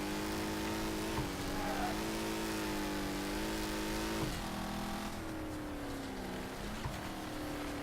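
A race car engine in the video game Wreckfest drones steadily throughout, its pitch rising and dipping as it revs, loud and close with no talking.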